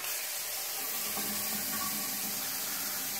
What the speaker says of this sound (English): Here's the other faucet.